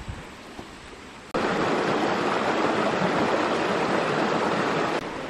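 Water from a forest stream runs over rocks, a steady close rushing wash that jumps abruptly louder after a quiet start and holds constant.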